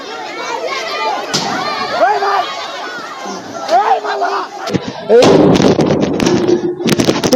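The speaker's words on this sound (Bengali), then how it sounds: "বিস্ফোরণের আওয়াজ শুনতে পেলে যে" An explosion goes off amid villagers' unrest at a police outpost, where a crowd is vandalising with sticks and setting fires. Agitated crowd voices fill the scene before a sudden loud, rough blast-like burst cuts in and lingers under the noise.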